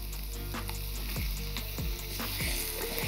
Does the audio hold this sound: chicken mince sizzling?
yes